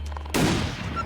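A single sharp rifle shot fired while hunting in the survival game The Long Dark, loud and close, with a sudden onset after quiet ambience and a ringing decay tail.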